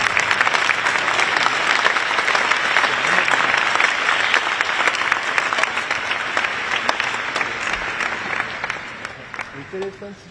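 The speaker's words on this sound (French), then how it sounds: "Si vous voulez, vous pouvez applaudir un peu, ça donne un peu de l'ambiance" Applause from the gathering at the Paris 2024 Olympics invitation ceremony during a group photo, a sustained crowd clapping that slowly softens toward the end, with voices faintly underneath.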